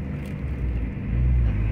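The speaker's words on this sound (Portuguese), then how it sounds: "Vocês viram como é que o carro tá atravessando um perto do outro?" Low rumbling engines of cars squeezing past each other in a narrow town street, the rumble swelling louder toward the end as a vehicle draws close.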